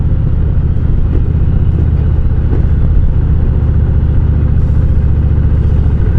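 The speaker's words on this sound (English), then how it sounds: "Kind of revved it up a little bit more for you guys there." A motorcycle engine rumbles loudly and steadily up close, with a deep throbbing low end and a slight rise in pitch as it revs.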